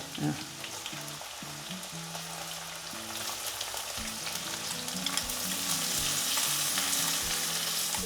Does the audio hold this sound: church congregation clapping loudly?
no